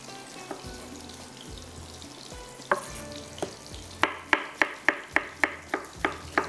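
Onions fry for chicken karahi, a steady sizzle in the pan, followed by a run of sharp regular clinks and scrapes as the pan is stirred.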